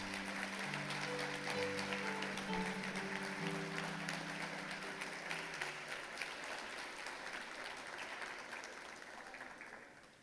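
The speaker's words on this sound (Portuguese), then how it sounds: "Vamos aplaudir o Senhor, por favor." A church congregation applauds the Lord with sustained clapping over held organ or keyboard tones, then fades gently near the end.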